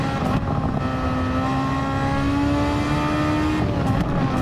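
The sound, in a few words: race car engine braking and shifting gears in a racing video game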